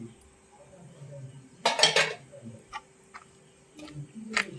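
Curry leaf chutney being stirred in a bowl with chili powder, ground coriander, cumin, mustard and fenugreek mixed in, giving soft scattered utensil clinks and taps against the bowl, with one louder clattering burst partway through.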